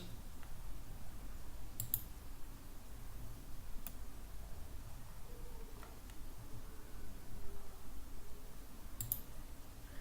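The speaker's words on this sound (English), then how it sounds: "So what we're going to do is click new, chart, under measures," Computer mouse clicks at a desk, a few sharp isolated clicks spread across the stretch with long gaps between them, faint and close over a quiet, hissy room background.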